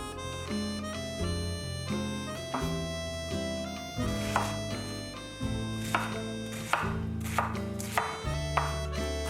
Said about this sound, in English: We're cutting out the stem core because it can be bitter.